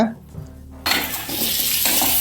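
Onions sautéing for a snail and river mussel curry, with a loud steady sizzle in the pan and stirring and scraping from a spoon. A quieter, sparser start gives way to continuous frying noise.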